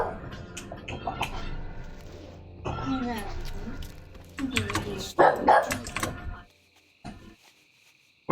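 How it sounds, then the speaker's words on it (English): A pet dog named Coco barks indoors in short bursts during ongoing conversation, with some mechanical clicks; the barks sit close but partly under the talk, ending in near quiet. "What's she barking at?"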